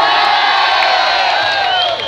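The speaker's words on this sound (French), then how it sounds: "Ils sont derrière, mais ils font beaucoup de bruit." A concert crowd shouts, whoops and cheers in a dense, sustained roar that stays loud and steady throughout, with no single voice standing out.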